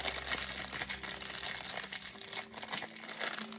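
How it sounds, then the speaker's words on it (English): Crinkling of a plastic piping bag as its edges are rolled up while filling it with cream-puff cream, a steady close, quiet crumpling rustle with no talk. "Roll the edges of this bag up"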